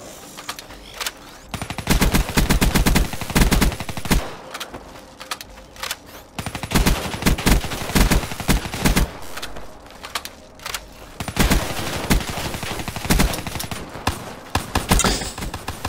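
Rapid automatic gunfire in the Call of Duty Nuketown map, dense bursts of loud close shots separated by short pauses, repeating across the whole stretch with no speech over it.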